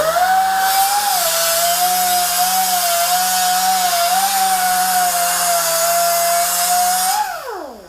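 A power tool with a cutting disc whines steadily at high speed while slicing through a panel, held for several seconds under a constant grinding hiss, then winds down as the disc spins to a stop.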